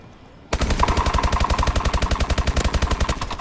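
Rapid automatic gunfire erupts suddenly in a Call of Duty: Advanced Warfare gun game match, a loud, close, evenly spaced burst of roughly a dozen shots per second that keeps going until the end.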